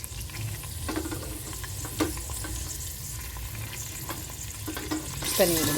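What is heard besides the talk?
mint and coriander frying with golden-brown onions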